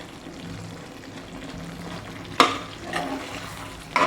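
Potato masala with coriander leaves is stirred in a pan over a soft background sizzle, with a few sharp scraping and clattering strokes of the spoon standing out near the end.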